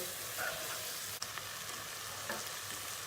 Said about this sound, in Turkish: Şöyle bir kere karıştıralım.